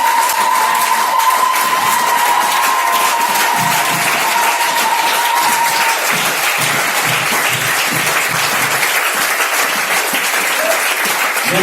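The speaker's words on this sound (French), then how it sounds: "nous allons acclamer pour le oint" A church congregation claps loudly and steadily for the anointed, dense applause filling the space throughout with faint cheering mixed in and no talk over it.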